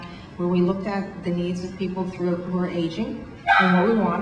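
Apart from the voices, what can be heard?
dog barking during presentation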